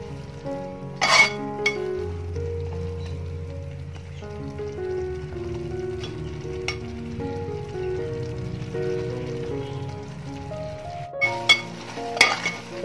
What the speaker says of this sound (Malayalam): ഇതിൽ 2-3 മിനിറ്റ് ഒന്ന് ചെറിയ രീതിയിലൊന്ന് തിളച്ച് വന്നാൽ മതി.